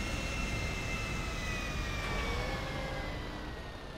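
Aircraft engine droning steadily overhead in GTA Online, a continuous loud hum with a slow pitch shift as it passes and fades slightly at the end.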